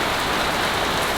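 Steady rain falling outside beside a parked RV, a dense, even hiss of drops on surfaces, fairly loud and continuous with no talking.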